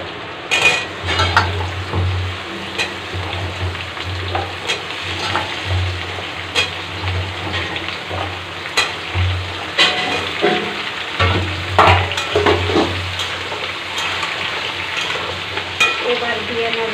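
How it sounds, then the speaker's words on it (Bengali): Potatoes and pumpkin fry loudly in a pan, a continuous crackling sizzle broken by repeated scraping and clinking as a utensil stirs them against the metal. "আলু একটু ভেজে নেওয়ার পর দিয়ে নেব কুমড়ো কেটে রাখা।"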